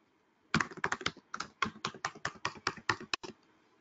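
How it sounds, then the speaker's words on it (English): Quick, close keystrokes on a computer keyboard, roughly sixteen crisp taps in a steady burst with short pauses, typed into a file during an Android app security testing session, with no talk. "let me type in a file"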